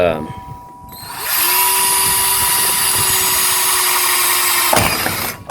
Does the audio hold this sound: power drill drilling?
yes